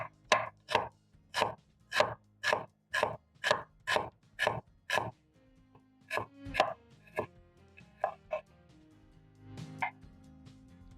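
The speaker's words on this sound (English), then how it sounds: "then I'm going to thinly shred the onion" A knife thinly slices an onion on a cutting board, a brisk run of about a dozen evenly spaced, crisp chops followed by slower, irregular cuts and a few lighter taps, close and clear, with no talk.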